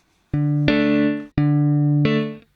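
Two sustained electric guitar chords from a software instrument, each struck twice in quick succession and left ringing, with a short gap between the pairs.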